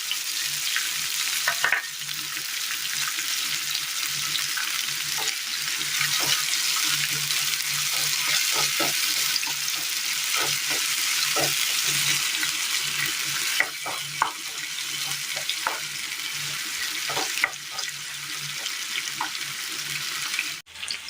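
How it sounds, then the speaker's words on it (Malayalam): Curry leaves hitting a hot pan for a Kerala curry, a sustained loud sizzle with scattered pops and occasional stirring scrapes, continuous for about twenty seconds without talk. "ഇതിലേക്ക് കറിവേപ്പില കൂടി ചേർത്ത് കൊടുക്കാം"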